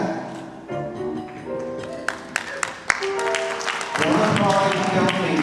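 Audience applause at a theatre gala performance, a dense spread of clapping that swells and stays steady, with a few sharper individual claps standing out.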